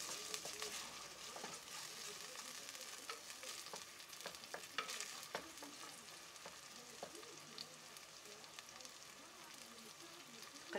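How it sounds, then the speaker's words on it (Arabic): Onions fry quietly in a pan for a traditional Algerian dish, giving a soft, continuous sizzle with scattered crackles and occasional stirring clicks. "نخليه يتقلى، نخلى هكذا البصل"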